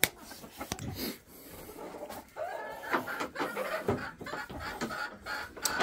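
Hens and roosters in a pen cluck and squawk in scattered bursts, some near and some farther off, with shuffling and rustling between calls and no talk.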